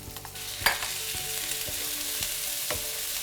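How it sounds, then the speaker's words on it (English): Cumin seeds sizzle and crackle steadily in hot oil, with a few sharp pops and clinks of stirring, close and fairly quiet. "So once they sizzle up and you can smell it, don't burn it"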